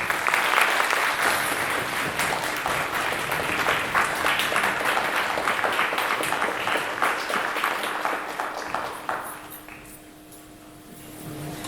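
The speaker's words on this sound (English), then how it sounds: "Let's give her a nice round of applause." Audience at a Bharatanatyam Arangetram applauding a dancer's grandmother, with dense, steady applause filling the hall before fading out near the end.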